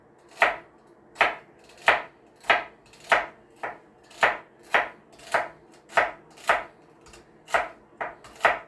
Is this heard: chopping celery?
yes